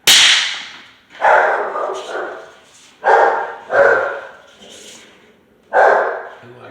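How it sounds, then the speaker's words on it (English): A dog barking at a door scotch, five or six loud, close, sharp barks in an irregular series with short pauses between them. "So the dog down there, he hates door scotches. I ain't never seen nothing like it. Every time he starts barking."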